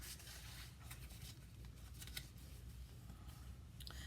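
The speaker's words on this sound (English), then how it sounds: "I'm going to take my bone folder and I'm going to burnish all of my score lines" A bone folder rubs along score lines on paper for a Stampin' Up! 3D gift item, a very faint, close, dry papery swishing in short repeated strokes.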